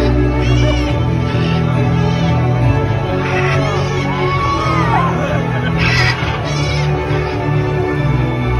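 Parrot-like birds at a Disney bird show in Florida let out scattered squawks and screeches over a steady crowd murmur, with people chattering throughout.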